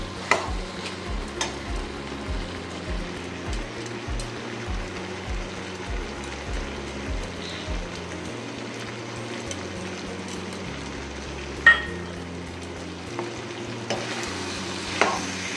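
Fish frying in mustard oil in a pan with turmeric, coriander-cumin powder and crushed black pepper, giving a steady low sizzle broken by soft stirring scrapes and an occasional louder knock of the utensil.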